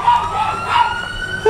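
Cartoon ambulance siren wailing in a loud, steady rising-and-falling tone throughout, close and dominant with no talk over it.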